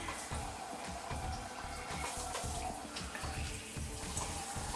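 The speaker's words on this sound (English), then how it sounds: "now I'm going to shower" Water from a filtered shower head runs steadily and close, a continuous splashing hiss with no talking.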